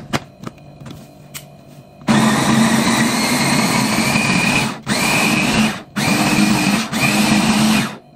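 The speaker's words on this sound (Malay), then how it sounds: "sekarang saya nak kisar bahan-bahannya ya" Electric kitchen blender grinding ingredients with a little oil for a wedding feast dish, a loud close whirring roar in bursts with brief pauses between, after quieter handling sounds.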